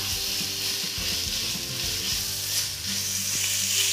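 Ginger garlic paste fries in a pan for Mangalore-style chicken sukka, giving a continuous close sizzle with soft stirring scrapes and small pops and no voices.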